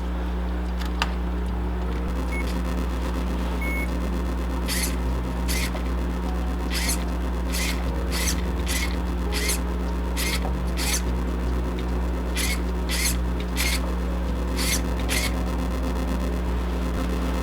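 A rear steering servo on a Redcat Everest 10 RC crawler whirs in a series of short, evenly spaced bursts over a steady low background hum, close and fairly quiet.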